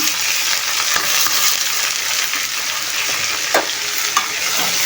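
Bitter gourd and onions frying in a pan, with a steady loud sizzle throughout and a few soft stirring scrapes, no talking.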